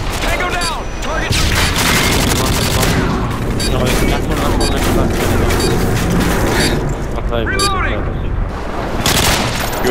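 Dense gunfire in a Call of Duty Highrise demolition match, loud and continuous with bursts and booms and a stun grenade going off amid the shooting, while voices chatter over the top.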